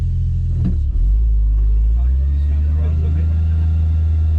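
A rally car on a rough, rocky technical race stage gives a deep, loud engine rumble that builds and holds steady close by, with a person speaking briefly over it.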